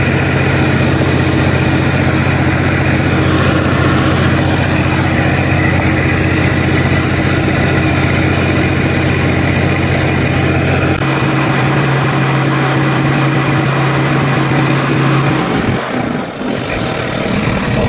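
Massey Ferguson MF 240 tractor engine running steadily while making silage, a loud, continuous low rumble that holds for most of the clip and then changes near the end, with no talk over it.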